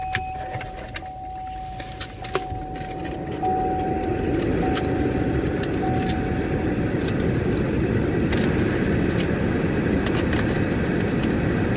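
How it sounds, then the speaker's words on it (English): A car engine starts after a few quiet clicks and a soft chime, then settles into a steady, loud, rumbling idle that carries on alone to the end. "Turn on my car."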